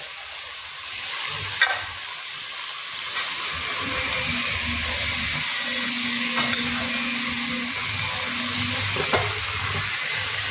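Cabbage sizzles and fries loudly and steadily in a pan for a prawn-fritter cabbage curry, with a low hum and occasional light clinks of a utensil.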